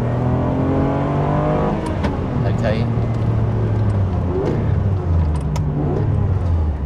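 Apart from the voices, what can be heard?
car engine revving to 7,500 rpm with aftermarket exhaust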